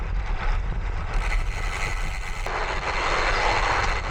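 Traffic on a main road in Mallorca, a continuous loud engine and tyre roar of passing vehicles that swells and shifts partway through, with no voices.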